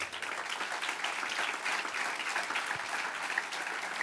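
A congregation at a Spanish-language church conference applauds the Lord, a fairly distant, even wash of clapping that holds steady throughout with no voices on top.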